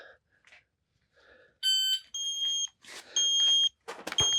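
An MDT Crush It shooting stage timer on a range gives several sharp, loud electronic beeps in short bursts, close by, between quieter rustling and handling noises.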